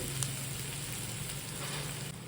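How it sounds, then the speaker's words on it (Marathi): Dhemas (tinda) vegetable sautés with salt in a pan, a steady close sizzle and frying crackle throughout, with no voices. "याच्यामध्ये परतून घेऊ छान मीठ टाकून घेते आधी"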